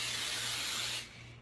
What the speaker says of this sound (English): we're gonna give them a little spray with a non-stick olive oil cooking spray